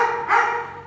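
A dog with a swollen leg, out walking on the way to a vet check, lets out one short, loud bark or yelp close by.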